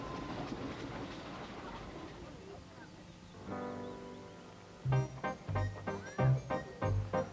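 A Ffestiniog Railway steam train runs over relaid 75-pound flat-bottom rail on a climbing mountain line, its steady rumble giving way to a run of distinct, loud rhythmic rail-joint clicks.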